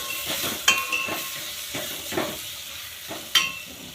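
Soaked chana dal tipped into a hot pan of spiced masala for an audumbar (cluster fig) vegetable dish, giving a steady close sizzle and hiss with a few sharp stirring clinks and scrapes of a utensil against the pan.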